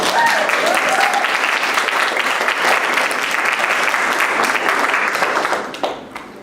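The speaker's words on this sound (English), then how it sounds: "Clap it up a little bit." Loud, dense audience applause fills the room steadily, then tapers off near the end.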